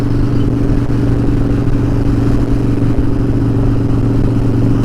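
A 2012 Harley Davidson Dyna Wide Glide is being ridden, its engine a loud, constant low rumble that stays close and steady throughout with faint clatter and no speech.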